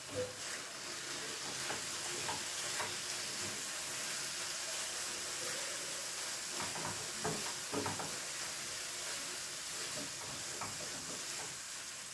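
Kashmiri chilli is stirred into a tomato curry gravy frying in a pan, giving a soft, steady sizzle and hiss with light scraping from the stirring, faint and close.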